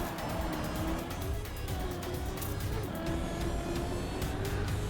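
Race cars in an endurance race hold a steady, loud engine drone with rising and falling pitch and occasional tire noise, continuous throughout with no talk.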